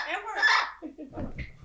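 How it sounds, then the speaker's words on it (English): Pet parrot giving a short squawking call indoors, close and fairly loud, followed by lower chuckling, clucking sounds. "Look, it's a bird"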